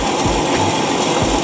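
A fresh bandsaw blade cuts flat bar metal stock for a bracket, giving a steady, close mechanical whir with faint rhythmic thumps.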